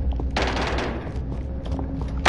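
Burst of squad shooter video game gunfire, a dense rattling volley that rings out for about half a second then gives way to scattered quieter shots over steady game background.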